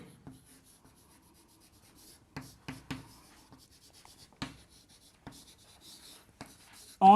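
Chalk or marker strokes on a lecture board, a series of short scratchy taps and rubs in irregular bursts, close and moderately loud, with quiet gaps between strokes.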